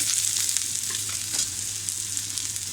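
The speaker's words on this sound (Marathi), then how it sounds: "आता ह्या वेळेला आपण थोडंसं तेल टाकूया आणि आपल्याला हे मध्यम गॅसवरच भाजून घ्यायचं आहे" Onion frying in a little oil over medium heat for a Malvani black-eyed pea and potato bhaji, giving a loud, even crackling sizzle that carries steadily throughout, close by and with no voices.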